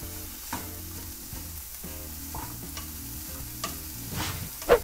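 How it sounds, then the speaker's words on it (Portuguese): Finely diced bacon fries in its own rendered fat in a pan without added oil, a steady close sizzle broken by occasional stirring scrapes and a louder clatter at the very end. "E aqui eu só vou dar uma pré-fritada em 100 gramas de bacon cortado"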